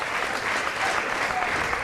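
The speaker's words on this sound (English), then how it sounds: "Crowd getting behind these guys." A wrestling crowd at an indie match keeps up steady, dense cheering and applause through the whole stretch, loud and continuous with no breaks.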